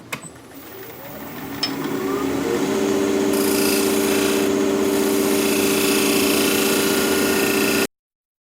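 Wood lathe turning dense, hard Japanese quilted maple, a steady rasping tool-on-wood scrape over the motor's hum that grows louder and holds constant, close up, with no talking.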